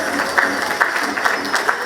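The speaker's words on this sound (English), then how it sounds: "put your hands together for Mr. Banerjee. Come on, keep applauding." A student audience at a panel event claps steadily, a dense wash of hand claps with small louder bursts, continuing throughout without pause.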